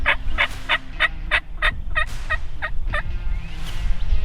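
A wild turkey gobbles and struts along a fence row, its rapid rattling gobbles repeating in bursts close by over a low outdoor rumble.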